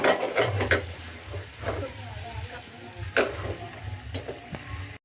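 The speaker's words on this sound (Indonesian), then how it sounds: "Kita tumis hingga harum." Spices sautéing in a pan for East Javanese cooking, a soft sizzle with intermittent stirring scrapes and clinks of a utensil against the pan, under nearby conversation.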